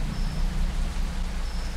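Steady, heavy rainfall in a Halloween horror video game, a dense hiss of drops with a low rumbling undertone, continuous and fairly loud.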